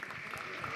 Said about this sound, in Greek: Χειροκρότημα από τους παρευρισκόμενους.